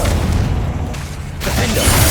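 Bombarda and Confringo spell blasts in the Hogwarts Legacy game, heard as a loud, dense explosive rumble that swells again near the end, with no talking.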